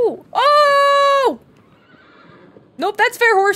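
A horse in the video game Shadow of the Colossus gives a loud, sustained whinny, then, after a short quiet gap, a second shorter neigh breaks in.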